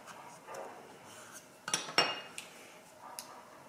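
An IKEA paring knife cutting open a rock-hard orange, giving close clinks and scrapes of metal with two sharp knocks in the middle, over a low room hum.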